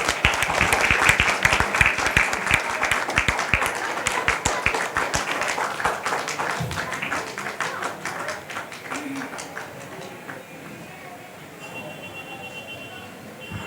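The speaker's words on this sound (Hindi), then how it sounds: "तालियां कुछ कम है हमारे पीडीजी के लिए।" A crowd at a Lions Club closing and award ceremony claps in dense applause, loud at first, then thinning and fading to scattered claps, with voices murmuring underneath.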